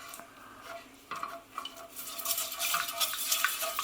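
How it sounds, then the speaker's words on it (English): A whisk scrapes and clicks briskly against a bowl while breaking up corn flour into a little milk for eggless custard, close and steady, growing busier and brighter toward the end. "just get your whisk in there, just break it up and it will soon dissolve into the milk"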